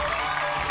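A studio audience at a Marathi television game show breaks into applause, a brief, dense wash of clapping heard steadily throughout.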